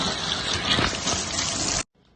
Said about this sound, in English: You start by washing your hands.